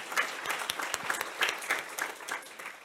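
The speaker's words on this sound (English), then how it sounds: "Applause for workshop 3." Audience applause at a maritime spatial planning forum plenary, moderately quiet clapping from a modest crowd, with individual claps distinct within a steady patter lasting the whole clip.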